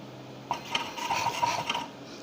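A Skycut C24 cutting plotter makes a test cut, giving a short, close rasping drag of the blade that rises and falls over about a second and a half against a quiet background.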